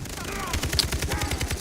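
Fast, even bursts of automatic gunfire rattle steadily in a Far Cry 3 co-op firefight, loud and continuous with a sharp crack near the middle.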